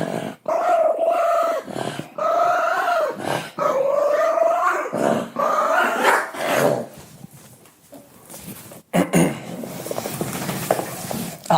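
A dog named Flor barks and growls close by in repeated loud bursts, rough growling between barks, before quieter rustling and movement near the end.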